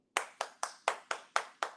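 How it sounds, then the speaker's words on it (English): Seven crisp, evenly spaced hand claps ring out in a quick steady rhythm, close and fairly loud against an otherwise quiet room, with no crowd joining in. "And they're the only two people clapping."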